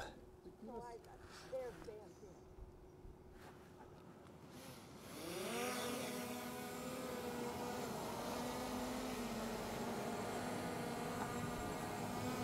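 A DJI Air 2S drone takes off, its motors spinning up about halfway through into a loud steady high whine that holds to the end, with a person talking earlier.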